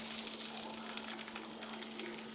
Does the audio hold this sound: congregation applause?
no